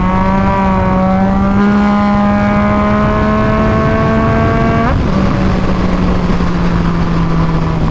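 A 2005–2006 Kawasaki 636 sport bike ridden at speed, its engine whining loud and close, pitch climbing steadily before dropping sharply at a gear change and settling into a steady drone.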